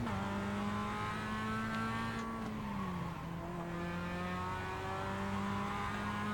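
Simulated car in the iRacing racing game, played on a motion rig with a Moza R3 force-feedback wheel, holds a steady whining engine drone that dips in pitch midway as the car slides, continuous and fairly loud with no talking.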